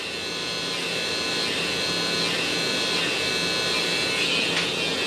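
An electric hair clipper buzzes continuously while trimming a lineup, a close, steady whine that stays level, with no talking heard.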